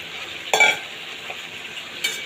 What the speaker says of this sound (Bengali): নেড়ে চেড়ে মশলার সাথে মাছের সাথে মিশিয়ে নেবো, সবজির সাথে একবারে।